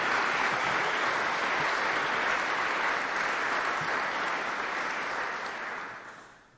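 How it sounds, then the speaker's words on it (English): Dense, even applause from a ceremony audience marking an Order of Manitoba investiture, sustained and full before fading out over the final second. "ask that together we all acknowledge his investiture with a round of applause"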